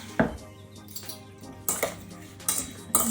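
Strawberries being mixed with sugar in a bowl, heard as a few sharp clinks and scrapes of a utensil against the bowl in irregular bursts, close and fairly quiet.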